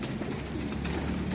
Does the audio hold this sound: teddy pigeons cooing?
yes